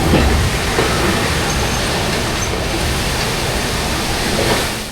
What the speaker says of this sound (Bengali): বন্ধুরা এখন পার করছি সেই বিখ্যাত ফারাক্কা ড্যাম ব্রিজ।